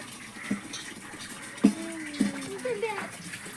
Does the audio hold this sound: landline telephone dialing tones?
no